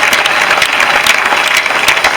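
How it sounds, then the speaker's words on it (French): Sustained, loud applause from a congregation at a 45th anniversary church assembly service, dense clapping filling the whole moment without talk. "Est-ce que nous pouvons applaudir les Seigneurs?"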